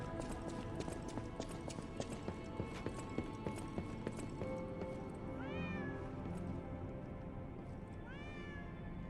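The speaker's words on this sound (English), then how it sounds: "where's that goddamn cat at?" In the game Lies of P, a cat meows twice, faint rising mews over steady clip-clop footsteps on a hard surface, with no talk.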